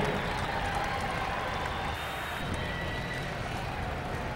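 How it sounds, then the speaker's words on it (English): Crowd applause in the grandstand at a 1997 NFMS super stock tractor pull in Louisville, Kentucky, a continuous broad clapping roar with crowd noise, sustained evenly across the whole stretch. "Let's give him a nice round of applause"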